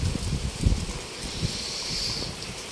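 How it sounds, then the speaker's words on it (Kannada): Wind blowing through leafy trees outdoors, a steady rushing hiss with low gusty buffeting against the microphone, moderately loud and continuous with no voices. "ಗಾಳಿನೂ ಚೆನ್ನಾಗೇ ಬೀಸ್ತಿದೆ."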